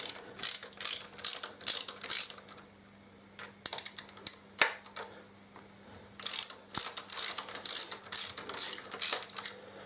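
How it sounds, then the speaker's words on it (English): Ratchet wrench undoing bolts on a Harley Davidson Deuce motorcycle during a trike conversion, giving loud, close, rapid clicking bursts in several runs separated by short pauses. "I should be able to undo these three bolts"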